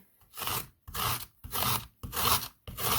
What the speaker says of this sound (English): I just took a putty knife, started scraping